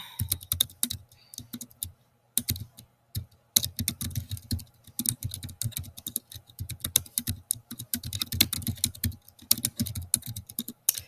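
Keys clatter on a computer keyboard in irregular bursts of typing with short pauses, close and clear with no talking.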